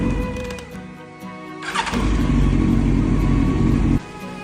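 An old Yamaha R1 four-cylinder with carburettors cranks and fires up with a sudden roar, then settles into a steady, loud idle for a couple of seconds before cutting off abruptly; a fainter mechanical hum precedes the start.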